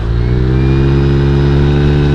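A Honda Vario 150 scooter engine hums steadily while cruising, a loud, continuous close drone with no talking.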